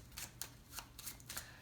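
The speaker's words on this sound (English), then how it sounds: "So what you want to do is shuffle them up" A deck of standard playing cards shuffled by hand in quick riffling bursts, about five short crisp flurries in under two seconds, close and fairly quiet, with no talking.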